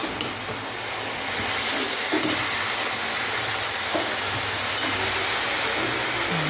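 Pre-warmed milk hits a hot pan of carrot halwa (gajar ka halwa) with a loud, close, steady hiss and bubbling sizzle that keeps going without pause, and no talking.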